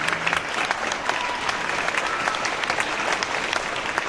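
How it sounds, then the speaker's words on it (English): An elementary school audience at a Veterans Day ceremony claps steadily in a dense, sustained round of applause filling the room for several seconds. "Round of applause, please."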